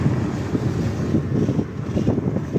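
Wind roaring across the microphone on a highway outside Shevgaon, a continuous low buffeting rumble that stays loud and steady throughout.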